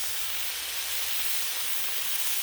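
Pork bacon sizzles steadily on a hot griddle, giving a constant dense hiss and crackle with no pauses and no voices over it.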